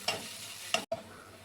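Shallots and ginger fry in oil for a Kerala-style ginger curry, giving a faint, steady sizzle with a couple of soft stirring scrapes and a brief gap.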